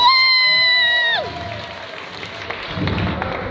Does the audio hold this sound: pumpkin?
no